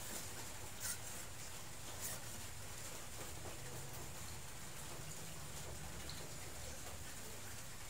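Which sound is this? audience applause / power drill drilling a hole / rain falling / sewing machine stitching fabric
rain falling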